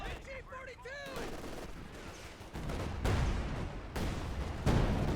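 In a Company of Heroes 2 battle, gunfire crackles in dense, overlapping bursts, broken by heavy thumping blasts from a frag grenade, while a commentator talks briefly at the start.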